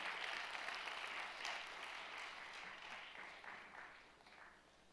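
A church congregation at a Friday night service applauds to welcome a pastor, a dense roomful of clapping that stays steady for several seconds before slowly tapering off, heard from a distance.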